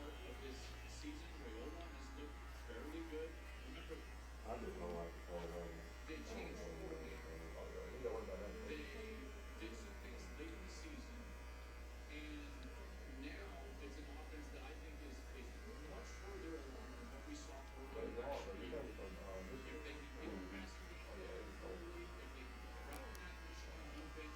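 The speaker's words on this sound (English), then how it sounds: "you start with the clipper open. Notice the slight flicking motion I'm doing at the end of the stroke." Electric hair clippers buzz against a steady mains-type hum while cutting a low fade, with short flicking strokes; someone talks over the cutting throughout.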